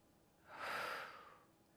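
A person takes one soft breath while performing a squat, a close and quiet airy inhale that swells and then fades out within about a second and a half.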